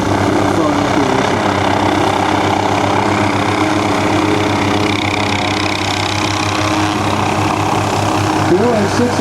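A Hughes 500 (OH-6) helicopter flies a demonstration at Rotorfest 2008, giving a loud, steady turbine whine and rotor drone throughout. An announcer's voice is heard over it.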